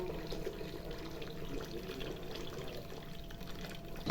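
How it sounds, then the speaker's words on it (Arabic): Hot water pours steadily from close by, a continuous watery rush and splash that stays even throughout with no talking. "هنا غنكب عليه الماء سخون"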